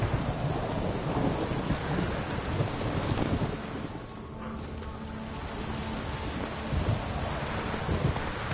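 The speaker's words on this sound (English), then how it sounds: "A storm, damn it." Thunderstorm in The Witcher 3: steady heavy rain with rolling rumbles of thunder, loud and continuous throughout, briefly easing in the middle before swelling again.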